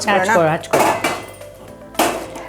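Pots and vessels clank and clink as they are handled in a home kitchen while jowar roti is being made, several sharp metallic knocks spaced across a couple of seconds, close and fairly loud, with someone talking over them.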